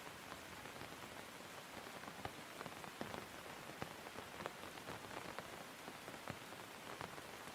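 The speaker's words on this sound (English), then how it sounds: "The raindrops make soft tapping sounds" Soft rain falling on leaves and ground, with a steady faint wash and scattered close drips tapping irregularly throughout; no voices.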